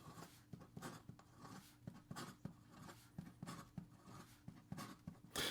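A Conway Stewart fountain pen nib moves fast across paper in quick, rhythmic scratchy strokes, about a dozen short bursts, faint and close up.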